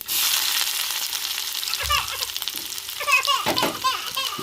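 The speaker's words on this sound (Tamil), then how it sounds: "எண்ணெய் சூடாச்சுங்க. கடுகு உளுந்து போட்டுக்குருவோம். வெங்காயம் போட்டுக்குருவோம்." Mustard seeds, urad dal and onion sizzle in hot oil, a steady close frying hiss with faint stirring, while children's voices chatter and laugh in the background.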